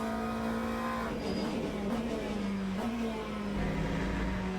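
A McLaren GT3 race car engine in the Le Mans Ultimate sim at Spa's Pouhon corner, a steady loud drone whose pitch dips briefly as the throttle lifts slightly, then rises again back on power, with no talk over it.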